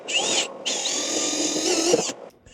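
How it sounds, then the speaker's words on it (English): A power drill whines at high pitch in two bursts, a brief pause between, bit grinding steadily into the wood of a broken barn door, boring dowel holes, before stopping. "we'll go ahead and drill the holes for the dowels"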